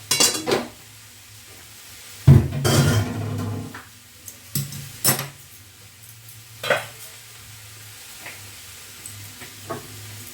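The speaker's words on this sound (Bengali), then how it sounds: "এবার কড়াইটা আমি নামিয়ে দেব।" A metal kadai, just used to cook eggplant in mustard, is lifted off a stove with a loud scraping clank. Scattered lighter knocks and taps of cookware follow in a quiet kitchen, with no talking.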